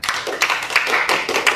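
Audience clapping hands together at a religious gathering where a preacher calls for applause, a loose burst of overlapping claps lasting about a second and a half.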